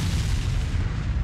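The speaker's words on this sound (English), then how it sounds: "Yeah, I think it's artillery." Distant artillery fire in a video game set around Berezino, rolling as a continuous low rumble of heavy booms with no distinct separate blasts, steady and fairly loud throughout.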